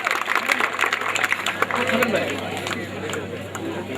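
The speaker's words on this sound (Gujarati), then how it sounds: "એક જોરદાર તાળીઓના ગગડાટથી એમને આપણે વધાવી લઈએ" Crowd applause at a temple consecration festival in Kotha, with overlapping claps and murmuring voices, fairly loud and sustained, gradually easing off toward the end.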